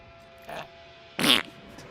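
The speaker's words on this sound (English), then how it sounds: "they farted on me" Two fart noises in a video game: a short soft one, then a louder, buzzier one about a second later, both alone against a quiet hum.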